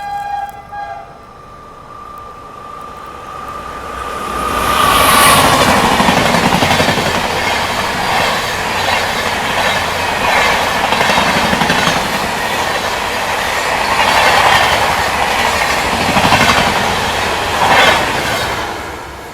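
Kolhapur Superfast, an LHB-coach train, rushes past on the adjacent line, a loud sustained roar with clattering wheels and squeal, following a brief tone at the start.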